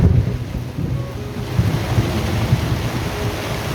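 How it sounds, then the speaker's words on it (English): Strong southerly wind gusting around a small sailing boat at sea, a steady loud roar with rushing water and low rumbling swells, no voices. "Just hit 30 knots on the speedo. Wind just blowing from the south."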